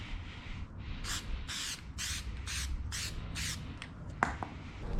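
Short, even bursts of aerosol spray paint coat a Mercedes E63S grille black, about six regular hisses in a row at close range, followed by a faint clack.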